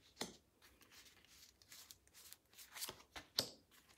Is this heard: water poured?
no